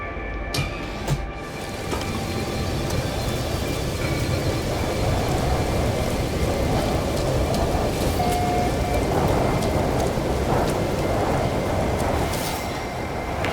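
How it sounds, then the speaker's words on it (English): Heavy rain from an incoming storm in No Man's Sky, a steady loud wash with low rumbling running throughout, no voices. "Weather warning. Incoming storm."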